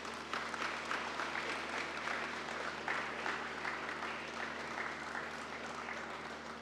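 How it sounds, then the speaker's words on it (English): Audience applause at a Guyana Defence Force commissioning ceremony for a Super King Air 350 aircraft at the Air Corps base in Timehri, a fairly faint, steady round of clapping heard from a distance with no talking over it. "Let us give them a resounding round of applause"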